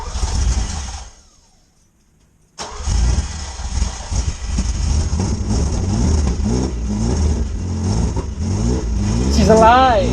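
A Ferrari 308 engine, airbox off and no air filter, cranks, falls silent, then roars to life and revs repeatedly with rising and falling pitch, loud and close.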